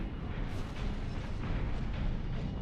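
Heavy hand cannon fire from a mech in Armored Core VI: Fires of Rubicon, a dense, loud rumbling boom that sustains through the whole moment with no voices over it.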